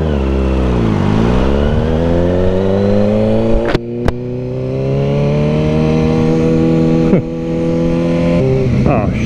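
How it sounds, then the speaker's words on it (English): A Mercedes SL65 AMG twin-turbo V12 accelerates hard, its loud, close engine note climbing steadily in pitch, with brief breaks at gear changes before each new rising pull. "Twin turbo V12 Mercedes."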